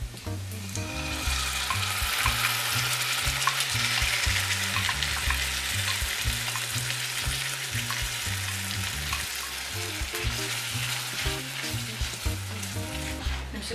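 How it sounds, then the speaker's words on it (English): Squash mixture and golden shallots frying in a pan, a steady, dense sizzle with faint stirring scrapes, close and continuous with no talking. "Shallots are cooking and they're starting to turn a little golden. It means this is a point that we want to stop. We're going to add our squash mixture."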